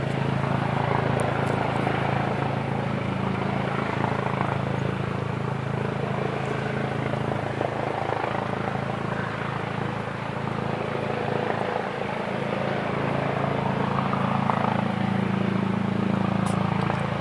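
A police helicopter hovers over a house, its rotor and engine drone steady and continuous for the whole stretch, fairly loud and unbroken, with no voices.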